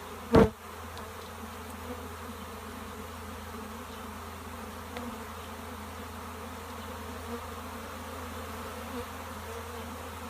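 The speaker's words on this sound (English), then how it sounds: "I'm going to try to drop those bees right on top of it" Steady low buzzing of a bee swarm being hived into a box fills the air throughout, with a brief sharp knock near the start and a constant hum underneath.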